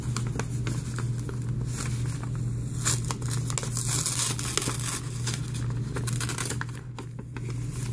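Paper from a mailed letter is crinkled and handled up close, giving a continuous rustling crackle over a low steady hum.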